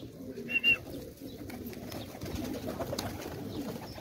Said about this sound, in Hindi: कबूतर देख रहे हैं